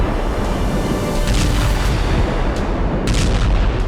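Heavy explosions from bombs and grenades during militant combat training thunder loudly and continuously, with rumbling booms and sharp bursts layered over dense, sustained noise and no speech.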